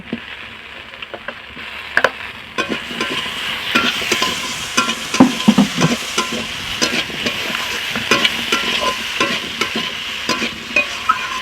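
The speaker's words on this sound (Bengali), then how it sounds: "এখন আমি পরিমাণ মতো লঙ্কা গুঁড়ো দিয়ে দিচ্ছি আর তার সাথে ভেজে রাখা মাছগুলো উঠিয়ে দিচ্ছি" Chili powder and already fried fish go into a hot pan for a fish curry and sizzle loudly and steadily, with close stirring scrapes and clinks throughout and no talk.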